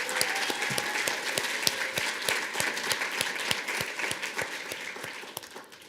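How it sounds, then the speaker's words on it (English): A crowd of family, friends and faculty applauds at a School of Education teacher pinning ceremony, steady dense clapping from many hands that holds for several seconds, then tapers slightly toward the end. "let's give you another round of applause"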